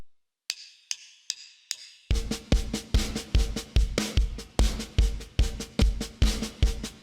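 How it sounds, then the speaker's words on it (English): Snare drum playing a four-bar accented pattern from a song, with a few sparse hits before a steady run of loud, close, evenly spaced strokes that continue without talk. "And then we've got this snare drum."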